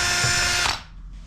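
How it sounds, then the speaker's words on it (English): A power drill whirs at high speed with a bit slightly undersized to clean out a rear brake part on a Mazda CX-5, running loudly and close for under a second before spinning down and stopping. "This drill bit is just a hair smaller."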